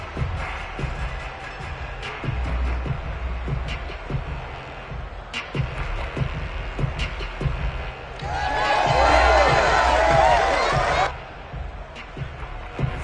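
A football stadium crowd in a video game roars with cheering that swells for a few seconds midway, set under ongoing commentary and scattered thumps and game sounds.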